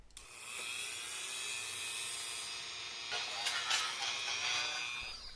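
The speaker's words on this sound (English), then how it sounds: "Using the Dremel, I'm enlarging the opening in the cork handles." A Dremel rotary tool enlarges the opening in cork handles for an old fishing rod, giving a steady high-pitched whine that continues throughout, rising in intensity and roughness toward the end as the bit grinds into the cork.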